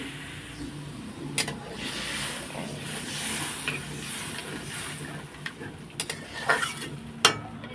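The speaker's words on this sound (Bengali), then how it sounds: "এখন আমি জল দিয়ে দেবো দিয়ে দিলাম জল" Water poured into spice paste frying in a pan for a fish curry brings a steady broadband hiss and sizzle, with scattered clinks and stirring knocks throughout.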